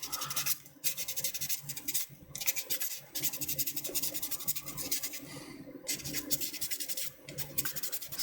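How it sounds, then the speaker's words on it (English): Plastic model kit parts for an MSM-07S Z'Gok being sanded by hand, a steady close scratchy rasp in repeated strokes with short pauses between passes, no talking. "Sanding, such an important part of model making."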